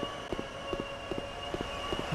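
A train in a video game chases the player, its steady rumbling roll carrying a regular clacking beat of wheels over rail joints, moderately loud and continuous with no voices.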